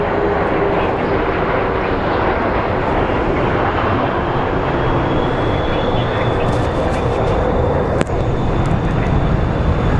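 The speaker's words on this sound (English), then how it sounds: "Our next flight is a Southwest Airlines 737 headed to Dallas." Southwest Airlines Boeing 737 jet at Phoenix Sky Harbor airport, its engines roaring in a loud, steady broadband rumble that holds for the whole stretch, with a faint high whine above.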